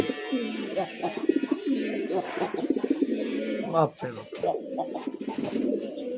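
Pigeons kept for sale, including Bombay, Giribaz and Lahori breeds, coo steadily and close by, with overlapping throaty rolling calls repeating throughout.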